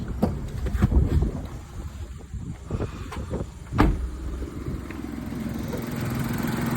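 A parked car's engine running while the vehicle stands still, a steady low hum with a few sharp knocks and clunks early on, then an even drone to the end.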